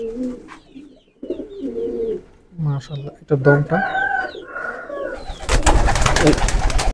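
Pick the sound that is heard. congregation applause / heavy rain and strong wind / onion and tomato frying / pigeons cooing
pigeons cooing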